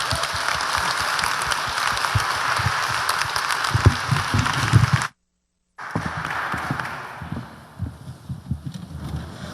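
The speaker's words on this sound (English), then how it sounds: "Please give them all a big round of applause." An audience applauds a panel at a climate fiction event: dense, steady clapping with low thumps and rumble, cut off by a short silence before fainter, thinning applause resumes.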